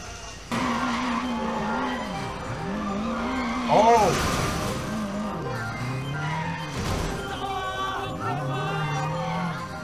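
In Sleeping Dogs, a car repeatedly skids and drifts under the handbrake, tires squealing in wavering bursts over a running engine, with a louder screech midway and voices speaking over it.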